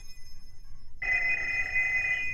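A telephone in a cartoon car video game starts ringing partway through, a bright steady electronic bell tone over quiet background hiss.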